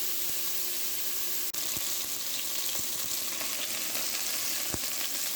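Ground beef browns in a hot pan with a steady, even sizzle and crackle and an occasional faint clink, close up with no talking.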